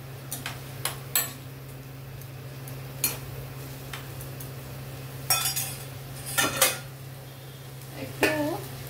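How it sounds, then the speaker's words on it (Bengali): A spoon knocks and clinks against a pan as hot water is stirred into a potato and pointed gourd curry, with sparse, separate taps spread across the clip over a steady low hum and a brief bit of talk. "একটু গরম জল দিয়ে এটাকে একটু গুলে দিচ্ছি।"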